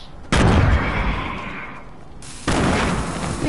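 Two loud grenade explosions go off in a video game battle, each a sharp close blast with a rumbling tail, the second about two seconds after the first.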